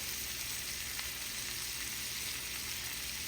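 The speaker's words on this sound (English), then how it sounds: "And now I'm going to throw in my rosemary and the cloves of garlic." Rosemary and garlic cloves sizzle in hot butter in a pan while cooking cauliflower steak, a steady, soft, crackling hiss that continues unbroken with no talk.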